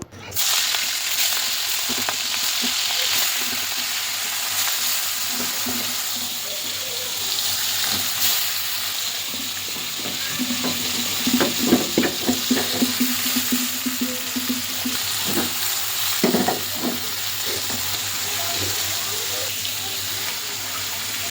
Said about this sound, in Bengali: এখন মাছ ভাজবো